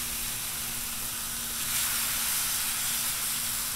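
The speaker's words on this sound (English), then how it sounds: "we stick them on. You can hear that sizzle." Skirt steak sizzles on an oiled, very hot Blackstone flat-top griddle, a steady broadband hiss that swells slightly partway through and holds close and loud with no voices.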